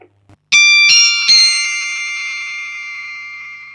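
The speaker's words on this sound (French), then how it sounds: "ce qui est chouette avec la whammy, c'est que c'est mal programmé et que du coup, il y a un artefact un peu dégueulasse sur la note aiguë" An electric guitar played through a Whammy pitch-shifting pedal rings out in a few bright struck notes that sustain and slowly fade, with a slightly metallic, glitchy edge on the high note; loud and close, with no talking.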